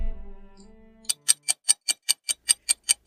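A clock ticks in a horror cartoon, starting after a low humming tone and then ticking steadily, about five crisp ticks per second, loud and alone.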